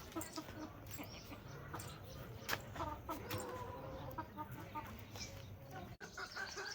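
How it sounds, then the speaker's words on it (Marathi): Chickens and chicks clucking and peeping while pecking at feed in a village farmyard, a busy overlapping chorus of short calls close by, with a person speaking quietly underneath. "कोंबडे पिलू या बाजूला तुम्ही सगळी. बघा कसं खाऊ खायला लागले"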